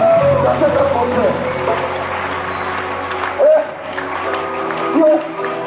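A church congregation applauds and cheers, a sustained wash of clapping and crowd voices with a preacher talking over it.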